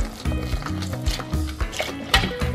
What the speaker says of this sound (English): stir and pour the milk mixture into the yeast mixture.